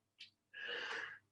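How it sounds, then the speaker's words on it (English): A single stifled sneeze in a quiet indoor craft workshop: a short sharp intake followed by a breathy burst, faint and close. "Excuse me, I'm sneezing."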